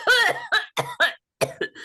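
A run of harsh, wet coughs in quick bursts, close up, with a short pause before two more coughs at the end.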